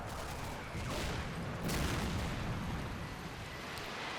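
Artillery rounds land in Combat Mission: Battle for Normandy, a steady roaring barrage of rumbling blasts and distant booms with no gaps, loud and full.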